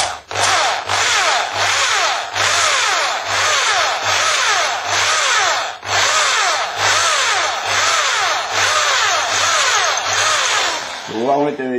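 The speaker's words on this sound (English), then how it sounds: "So I'm just going to take my time now until I drill through the bolt." A power drill bores through the steel bolt of a mortice lock, its loud grinding whine running in long sustained bursts with brief dips between pushes, close up and steady, with no talk over it.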